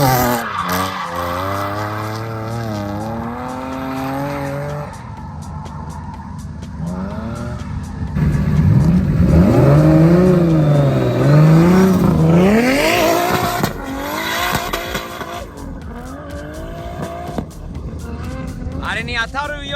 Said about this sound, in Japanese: そして、リキモリの 240SX、あっちゃん運転で。